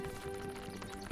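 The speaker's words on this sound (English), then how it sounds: "Why are there so many skeleton horses?" Skeleton horses in the video game Minecraft make quick hollow hoof clip-clops with a brief whinnying tone over a steady hum, fairly quiet and lasting about a second, with no talking.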